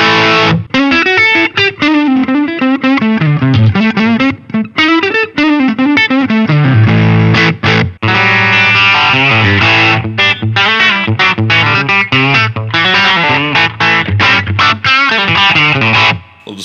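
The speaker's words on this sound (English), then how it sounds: "Put a little distortion on." A Line 6 Variax guitar plays a fast, continuous melodic run through a distortion effect, loud and close, with brief pauses between phrases.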